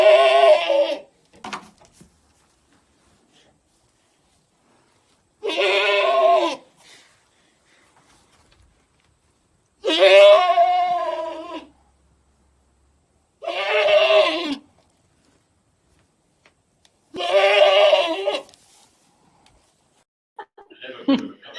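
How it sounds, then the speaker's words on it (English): Prize-winning male full-blood goat at a state fair, bleating loudly and close in five long wavering calls spaced several seconds apart, with quiet gaps between. "So that was the prize-winning goat from this year's Providence State Fair, and it made a very fun noise."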